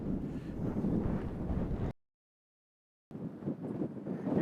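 Wind gusting across an open golf course, a blustery rumbling rush buffeting the microphone, broken by a short silent gap before the roaring resumes.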